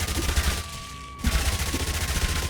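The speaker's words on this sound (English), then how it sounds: "Enhance your pump action shotgun into a minigun." A massive minigun, upgraded from a pump-action shotgun in Yet Another Zombie Survivors, spits a loud rapid stream of shots with a steady tone over the top, a brief gap mid-burst, then continuous fire again.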